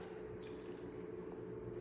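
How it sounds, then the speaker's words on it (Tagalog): Water runs steadily into a cooking pot over bangus (milkfish) with olive oil, a continuous close liquid pour lasting about two seconds with no talk. "Lagyan natin ng water, tubig"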